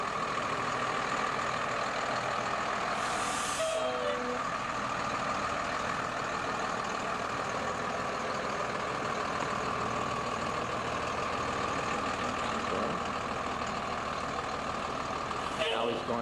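A bus rolls forward at low speed during a driving maneuver on a test lot, its engine a steady low rumble throughout, with brief hissing bursts near the start and the end.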